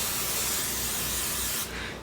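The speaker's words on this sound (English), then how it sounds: "This is a canola based nonstick spray." Canola-based nonstick cooking spray hisses steadily from an aerosol can onto hands during pizza dough prep, one continuous close spray that cuts off near the end.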